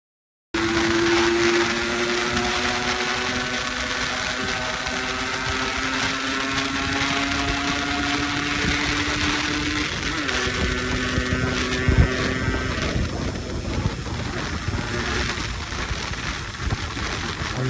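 A Yamaha RX motorcycle rides a highway in heavy rain, its engine a steady loud drone with shifting tones, under a dense wash of wind and rain noise with no voices.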